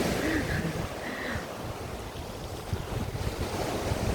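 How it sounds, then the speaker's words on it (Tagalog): Wind gusts blow across a beach campsite, a steady roaring rush with surf-like wash. It sounds close on the microphone, and faint voices murmur underneath. "kasi mahangin"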